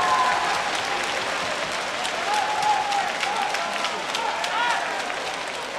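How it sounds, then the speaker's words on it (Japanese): Warm applause from the crowd at a Japanese men's V.Premier League volleyball final-round match between Suntory and Sakai, a broad, sustained wash of clapping with a faint tonal sound and some voices mixed in. "両チームの健闘を称える温かな拍手をお送りください。"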